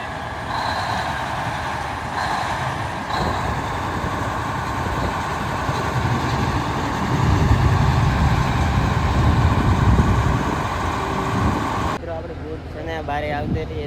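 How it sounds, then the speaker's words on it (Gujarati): A crane's engine runs steadily while lifting an entire boat, a continuous heavy mechanical rumble with a swell in loudness midway, and voices talk over it toward the end. "તો ક્રેંગે આપણે આખી બોટ ઉપાડી લીધી."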